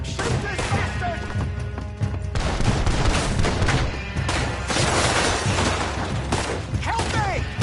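Gunshots and heavy impacts during a shootout in Red Dead Redemption 2, repeated sharp cracks and thuds amid shouting voices and game noise, loud and continuous.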